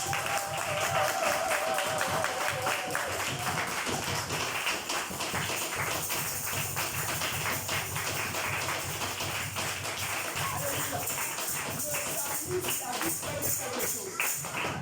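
A church congregation stands and applauds the Lord, a dense, continuous patter of many hands clapping across the room, with voices mixed in.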